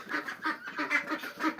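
Ducks kept at a village home quack faintly in a steady run of short, nasal calls about three times a second, heard alone at a modest distance.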